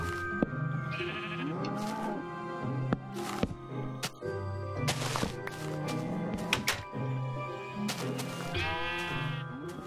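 Sheep in the Minecraft video game bleat repeatedly in short wavering cries, scattered among thunks and game sounds, with brief bits of talk in the background.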